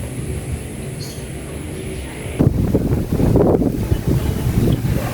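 Wind buffets the microphone in a rough, blustery roar that suddenly strengthens midway and keeps gusting loudly to the end.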